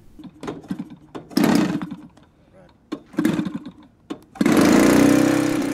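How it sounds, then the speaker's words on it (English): A Savage Bobber RC plane engine bursts into a loud, steady buzz near the end, after a stretch of speech and brief mechanical noises. "With the engine running smoothly"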